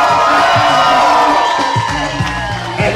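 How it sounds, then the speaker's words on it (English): Guests at a wedding reception at a private residence cheering and whooping loudly as a crowd, a continuous burst of excited voices with shouts standing out and no clear speech. "And let's keep your applause going,"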